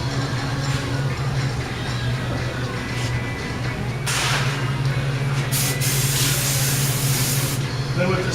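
A spray gun hisses continuously while shooting a crosshatch coat of paint onto a cabinet door in a finishing shop, with louder bursts midway over a steady low hum.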